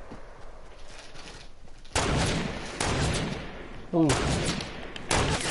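Sharp, loud gun blasts in Fortnite break a quieter stretch in three separate bursts, each setting off a short wave of noisy impact and echo, while a player lets out a brief exclamation.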